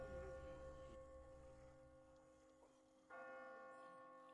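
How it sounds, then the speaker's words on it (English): Bells toll in The Walking Dead video game, a sustained ringing tone with a fresh strike renewing it near the end, quiet and distant. "Kenapa masih ada yang nyalain bell ya?"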